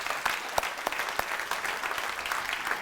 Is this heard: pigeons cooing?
no